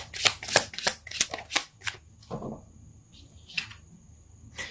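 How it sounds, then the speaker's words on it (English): Tarot cards are shuffled in a rapid run of crisp riffling bursts, then slower single snaps and slides as a card is drawn, close and clear with no talking. "So let's pull a card for your physical space and see what comes up."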